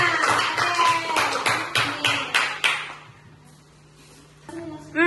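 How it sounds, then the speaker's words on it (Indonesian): Primary school pupils in a classroom clap for a classmate, with several loud, rhythmic group claps that fade out after about three seconds, then a short voice at the end. "Berikan tepuk tangan untuk tangannya."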